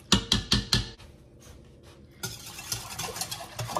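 A spoon stirring a homemade yogurt mixture in a pot, with four loud rhythmic clinks against the side, a short pause, then a quicker run of lighter scraping taps.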